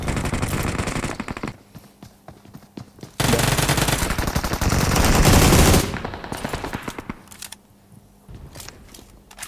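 Bursts of rapid automatic gunfire from a video game weapon, loud and close, with dense stretches of continuous fire broken by short pauses and scattered single shots, no talking.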